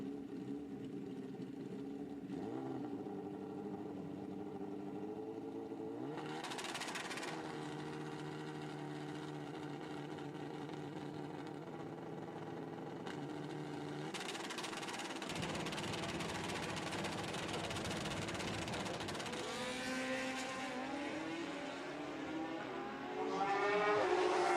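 Suzuki Hayabusa drag racing motorcycles at a drag strip, a pair of engines droning and rising steadily in pitch as revs build, loud and continuous with a sharper surge near the end, no talk.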